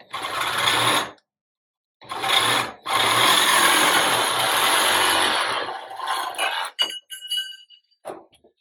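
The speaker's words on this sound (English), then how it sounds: "I'm just going to cut through them with the Sawzall" A Sawzall reciprocating saw cuts galvanized steel poles in loud, rasping bursts with short pauses between strokes, the harsh buzzing close and alone before tapering into scattered clicks and clatter.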